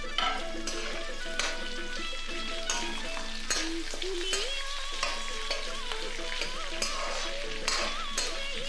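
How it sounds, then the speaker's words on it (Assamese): Chopped onions and two green chilies fry in hot oil with garlic while duck meat is being cooked, giving a steady close sizzle with stirring scrapes and no talk, while soft music plays underneath. "আমি তাত পিঁয়াজখিনি আৰু কাটি থোৱা জলকীয়া 2টা দি অলপ দেৰি ভালকৈ ভাজি ল'ম"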